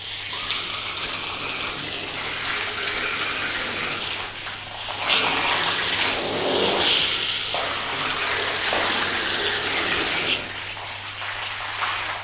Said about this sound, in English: there's so much pressure in this hose. It's quite hard.